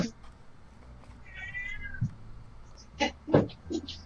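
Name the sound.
cat meowing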